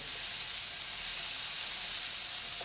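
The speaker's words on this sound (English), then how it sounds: "If you feel like there is not enough sizzle, not enough fat in there to kind of help cook it" Food browning in olive oil in a frying pan gives a steady, close sizzle and hiss that holds at an even level throughout, with no voices.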